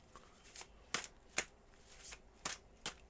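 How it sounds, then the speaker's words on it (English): Tarot cards are shuffled in a cleansing shuffle, giving a series of crisp, close riffling snaps and flutters at an irregular rhythm, quiet and heard alone without talk. "cleansing shuffle here"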